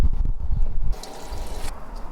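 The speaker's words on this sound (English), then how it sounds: "I'll start draining it through the pipes to flush everything through" Water draining through the pipes of a Ford Transit Custom Nugget campervan's water system, opening with close gurgling and splashing that gives way to a softer, steady hiss of flow.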